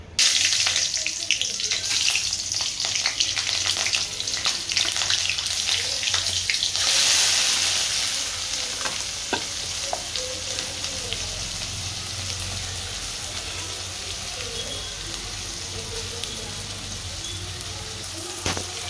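Vegetables hit hot oil in a home kitchen pan with a loud hiss that settles into a steady crackling sizzle, close by, with faint voices in the background.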